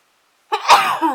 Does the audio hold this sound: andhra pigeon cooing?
no